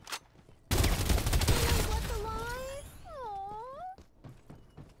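SMG burst fire in a shooter video game: a dense, loud crackle of rapid shots lasting over a second, followed by rising and falling whining tones, with faint background noise around it.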